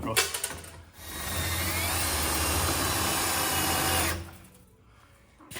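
A drill bores out a huck rivet on a Peterbilt 359 truck panel. A loud, steady, high-pitched whine runs for about three seconds, then cuts off, with brief mechanical rattles before and after.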